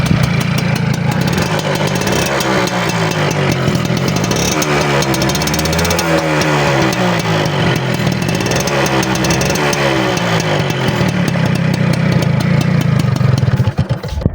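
A second-hand Suzuki AX 100 two-stroke motorcycle idles close by, a loud, continuous buzzing engine drone with a slight revving waver, holding steady for the whole stretch without any talk.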